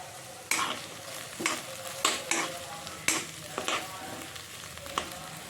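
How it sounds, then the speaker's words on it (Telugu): Paneer fries over a high flame in a pan, with a loud, close sizzle and repeated scraping stir strokes spaced about a second apart, and no voices. "హై ఫ్లేమ్లోనే ఫ్రై చేసుకోవాలి"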